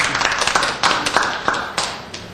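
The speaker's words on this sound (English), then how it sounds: "Applause is for you, actually." Applause from a small group at a commission meeting, a few people clapping in uneven bursts that fade and return over a couple of seconds, fairly close with no talking.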